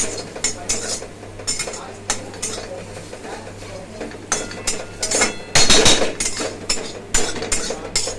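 Cardamom pods and cloves frying in a pan while a metal spoon stirs them, giving repeated clanking scrapes against the pan over a soft, continuous sizzle, with one louder burst of clatter midway.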